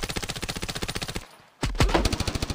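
Rapid automatic gunfire from the mobile shooter Standoff 2 rattles in a steady, even burst, breaks off into a short near-silent gap, then loud shots resume with a heavy thump and keep firing.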